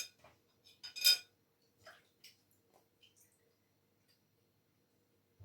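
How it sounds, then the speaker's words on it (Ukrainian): A spoon being washed clinks and scrapes a few times in quick bursts, close and fairly quiet, then trails off into near silence. "я ложку мию"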